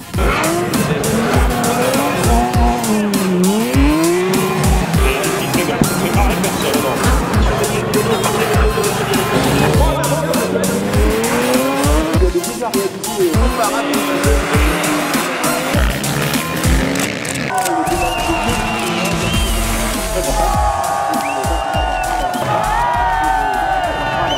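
Race cars sliding on an ice circuit at the Trophée Andros in Val Thorens, engines revving and sweeping past continuously with tire squeal, loud and sustained, over a faint crowd murmur.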